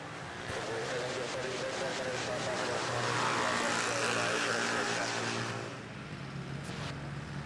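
An airliner landing at Manila Airport, a broad steady jet roar swelling and then easing off, heard from a distance under faint background sound.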